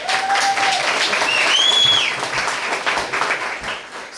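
An audience at a talk breaks into applause, a dense spread of clapping that swells and then tapers off over a few seconds, with whistles rising briefly above it.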